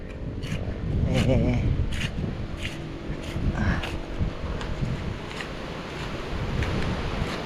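Strong wind buffets the microphone in heavy gusts, with a roar like surf underneath and a few faint voices.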